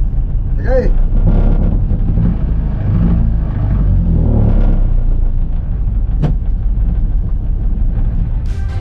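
A misfiring engine running on only three pistons, with a loud, uneven low rumble and rough pulsing, while a person talks over it.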